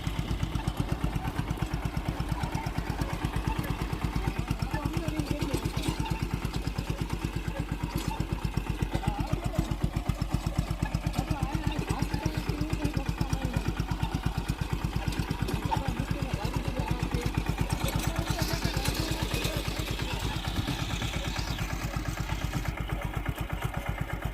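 A 10.5 hp Maruti Sanedo three-wheel tractor engine runs steadily throughout, a chugging mid-pitched drone with an even rhythm, close by.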